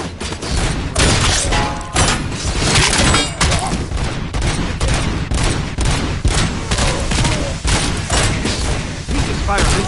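Loud, dense gunfire from the video game Robocop Rogue City fills the scene in rapid, overlapping bursts and heavy impacts, with a voice talking over the shooting.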